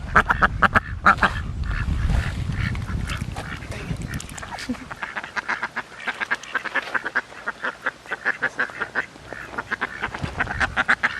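Ducks quack repeatedly at a nature park duck pond, a busy run of close, rhythmic calls; a burst of louder low rumbling and a brief voice come first, then steady quacking fills the rest.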